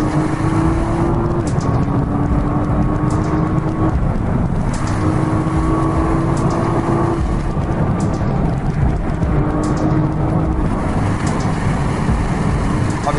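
A 2012 Nissan GT-R driven fast through corners gives a loud, steady roar of engine and road noise, with rising and falling engine tones shifting through each bend and heavy wind buffeting throughout.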